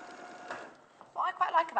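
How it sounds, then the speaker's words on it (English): A sewing machine stitches 1 cm seams along the short edges of fabric in a short burst of quick mechanical whirring, fairly close and quiet, with a voice speaking over it toward the end. "Just going to sew that 1 centimetre from those short edges."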